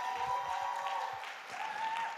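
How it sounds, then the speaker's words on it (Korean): A church congregation claps after a dance performance during a Sunday worship service, a moderate, steady patter of hands with a faint tonal hum lingering beneath. "다시 한번 큰 박수 부탁드리겠습니다."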